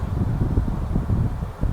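A Meier ME 720 small 10-litre evaporative air cooler fan runs close by, giving a steady, loud low whooshing airflow with gusty rumble throughout.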